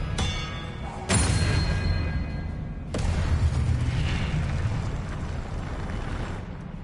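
Spell effects from the PS5 game Hogwarts Legacy: a sharp magical burst lands with a whoosh and boom, followed by a second blast and a sustained roaring rumble, loud and dense throughout.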